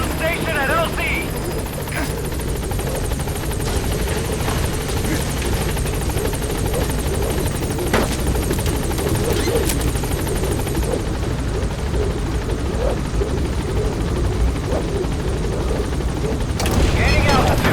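Helicopter rotor drone from a Metal Gear Solid V support chopper arriving at a landing zone, a steady loud whirring wash that holds throughout, with radio voices speaking over it.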